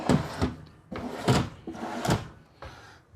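Drawers in a 2026 Newmar Dutch Star 4340 motorhome slide open and shut, three distinct rumbling slides with soft thuds, close and fairly loud, with no talking.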